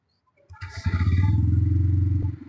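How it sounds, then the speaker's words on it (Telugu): A Bajaj Pulsar N125 motorcycle engine cranks and catches, then runs with a steady, close, loud low exhaust rumble for under two seconds before dropping away. "నేను మీ ముందు దీని ఇంజన్ ఎగ్జాస్ట్ ఎలా ఉందనేది నేను చూపిస్తాను చూడండి"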